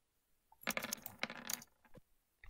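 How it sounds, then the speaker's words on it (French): Dice rolled onto a table during a tabletop role-playing game, a quick close clatter of several small bounces and rattles lasting about a second, faint and without talk. "Pourquoi les dés partent toujours à gauche, du coup on les voit plus."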